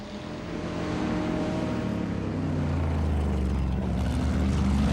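Le Mans race cars, 2003 24-hour race, on the Mulsanne straight at over 200 mph, an engine roar that swells from moderate to a loud, sustained close pass with no talk.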